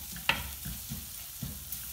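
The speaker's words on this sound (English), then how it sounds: "let's give it a stir so that the raw smell of the turmeric will go" A spoon stirs turmeric into chicken curry in a pan, giving a faint sizzle with a couple of soft scraping strokes, quiet and close.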